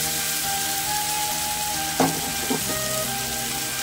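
Marinated jackfruit sizzles steadily in a wok, a continuous frying hiss with a couple of brief stirring scrapes and clatters near the middle.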